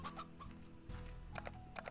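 Chickens and a rooster cluck in the video game Slime Rancher, with short repeated clucks and calls over a steady background music bed.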